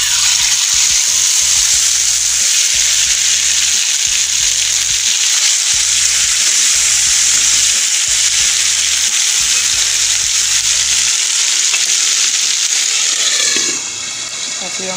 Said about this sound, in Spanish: Y vamos a comenzar a freír. Aquí tengan cuidado porque va a empezar a saltar mucho.